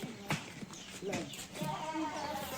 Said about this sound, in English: it's a lamb